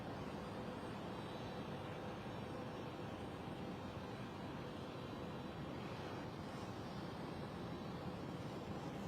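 A British Airways airliner departs London City Airport for Frankfurt, a faint, distant, even wash of engine roar that stays steady and unbroken with no voices.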